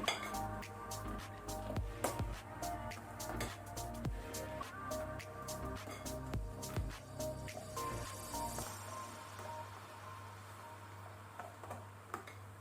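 A spoon taps and clinks against a vessel while stirring buttermilk curry (majjige saaru), quick irregular ticks for several seconds, then the clinking stops and only a faint low hum remains.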